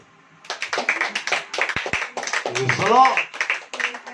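A church congregation clapping in a rough, uneven rhythm during a sermon, with voices and calls of praise mixed in over the claps at close range.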